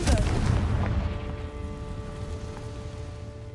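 A Confringo blasting spell goes off in Hogwarts Legacy with a loud, deep explosive boom at the start, followed by a long rumbling decay and a faint ringing tail.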